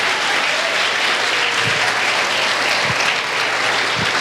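Church congregation applauding during a worship service, with a dense, continuous wash of clapping from many people that stays at an even level throughout and has a few soft low thumps mixed in.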